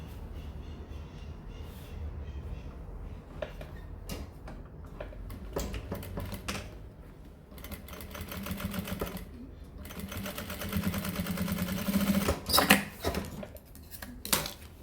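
Sewing machine stitching the edge of a zippered pouch in rapid, ticking bursts that stop and start, with quiet talk and handling of fabric between runs.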